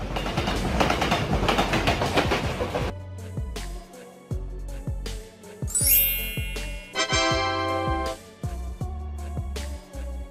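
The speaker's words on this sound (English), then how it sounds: "Freight trains designed to transport standard shipping containers between major freight" A container freight train rolls past with loud rhythmic clickety-clack of wheels over rail joints, a rushing roar at first, then spaced clanks and a bright metallic squeal partway through.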